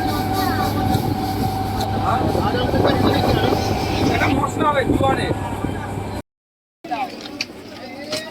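Train rumbling and rattling steadily as it pulls into Bishnupriya railway station in West Bengal, with a continuous heavy rolling din and clatter, then a brief cut and fainter platform noise afterward.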